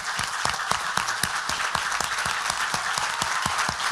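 A standing church congregation at a family conference claps steadily and loudly, a dense wash of applause with individual claps punching through in a fairly regular rhythm throughout.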